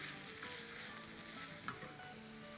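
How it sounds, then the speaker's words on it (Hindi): Shredded chicken frying with cumin, tomato and garam masala, a faint, steady sizzle with light stirring scrapes throughout. "अब इसको हम अच्छे से भूनेंगे।"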